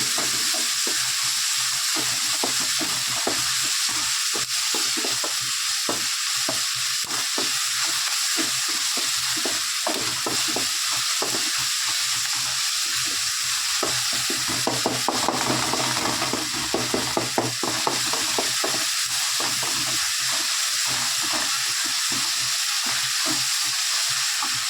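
Ginger garlic paste sautés in a pan for chicken gravy, giving a steady loud sizzle and frying hiss with scraping stir strokes. The strokes grow busier and clatter partway through, and no one talks.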